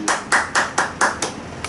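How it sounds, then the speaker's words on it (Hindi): Hands clapping in a quick, even rhythm of about seven sharp claps, close and loud, welcoming a speaker at a spiritual gathering. "जोरदार तालियों से इनका स्वागत करते हैं"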